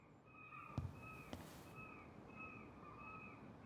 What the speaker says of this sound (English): Those are some loud-ass seagulls or something